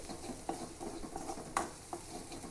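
Onions frying in a pan on a home stove, a soft sizzle under quiet scraping and clinking as a spoon stirs them in short irregular strokes, heard close with no talking.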